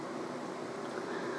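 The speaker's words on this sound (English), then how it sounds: "sorry about the noise, I have to have the fan on because I'm getting rather hot" An electric fan runs steadily in a room, giving a constant broadband whoosh with a low hum, even and unbroken throughout.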